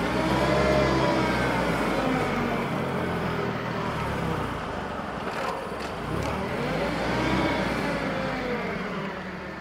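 A Mitsubishi FG30 6,000 lb propane (LP) forklift engine drones steadily while the truck is driven, a close, continuous hum with slight rises and falls and no talking.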